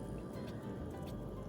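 A thick vegan chocolate date and coffee shake is poured into a glass, giving a soft, continuous wet glugging and splashing noise that stays fairly quiet and close throughout.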